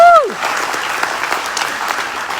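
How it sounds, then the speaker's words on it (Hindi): Loud audience clapping greets a speaker on stage at a Delhi march event, dense and sustained after a brief falling tone at the start, with some crowd murmur mixed in. "सर के लिए जोरदार तालियां।"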